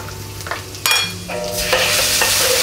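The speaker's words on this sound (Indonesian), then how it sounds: "Kita tumis sampai wangi ya, jangan sampai kuning, nanti angus." Minced garlic and thinly sliced ginger stir-fried in hot oil, sizzling briskly with a spatula scraping and stirring through a short burst.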